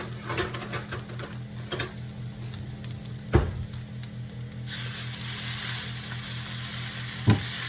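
Chow mein noodles fry in olive oil, sizzling steadily throughout while tongs stir and clatter against the pan, with a couple of sharp knocks and a hissing surge as the noodles are turned.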